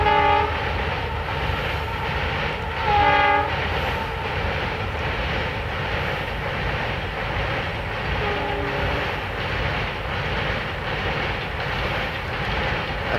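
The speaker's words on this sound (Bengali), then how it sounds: "একটা অসাধারণ একটা সিনেমার দৃশ্যের মতো ট্রেন যাচ্ছে ব্রিজের ওপর দিয়ে" A train crosses a bridge over a river junction, its steady rumble rolling on throughout and a horn sounding in a few clear blasts near the start, at about three seconds and again later, with no voices.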